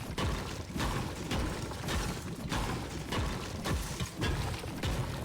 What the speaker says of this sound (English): this is what the pickaxe sounds like smacking brick.